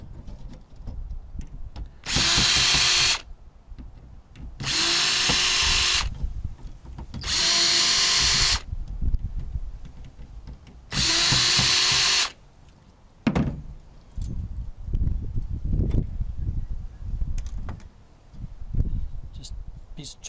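A power drill runs in four loud bursts of a second or so each, backing screws out of the metal frame that holds fans on a server switch, with handling clatter and brief talk between the bursts.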